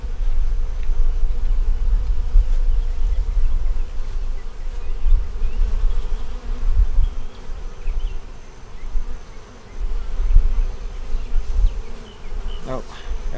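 Honey bees hum steadily in a hive during inspection, a dense close buzzing drone that swells and dips throughout, with no talking.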